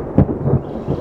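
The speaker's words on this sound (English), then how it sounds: "You can hear a thunderstorm in the background" A short low rumble of thunder from a thunderstorm outdoors, a single soft boom with faint rolling after it, distant and muted with no voices.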